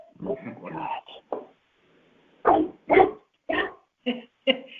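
A dog barks several times in short, separate bursts, sounding thin and compressed as if heard over a phone line during a Board of Assessment Appeals meeting, with brief talk at the start.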